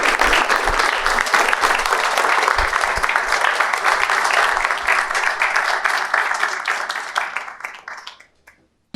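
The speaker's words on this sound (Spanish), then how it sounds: "Les pido que le demos un fuerte aplauso" Dense, steady audience applause fills the room at a cultural talk event, holding strong for several seconds before tapering off and fading to silence near the end.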